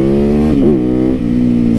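A motorcycle engine revved through a cable throttle, droning loud and close with a steady growl that rises and dips briefly in pitch before settling back to a constant idle-like hum.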